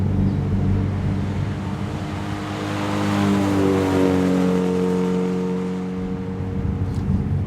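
A 1968 Honda S800 engine revs hard and steadily, its tone climbing and falling in smooth sweeps close by, loud and sustained with no talk over it.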